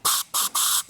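Compressed air blows off a freshly blasted spark plug from a Ford Explorer, coming in three quick, loud hissing bursts separated by short gaps.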